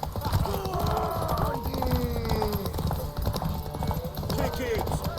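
Rapid hoof clip-clop of a horse galloping during a race in The Witcher 3: Wild Hunt, a continuous pounding rhythm up close, heard under overlapping male speech and game music.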